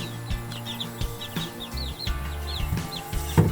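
Betong chickens, about two months old, cluck and chirp repeatedly in short bursts over a low background hum, in Doi Saket, Chiang Mai.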